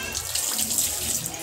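Water pours steadily from a tap during a dog bath, a close, continuous splashing stream with no speech.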